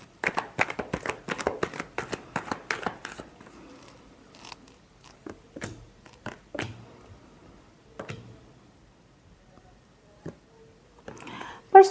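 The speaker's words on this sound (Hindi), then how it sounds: "Last shuffle." Tarot cards being shuffled close up in quick, dense riffling bursts for about three seconds, followed by scattered single card taps and slaps with quiet gaps between them.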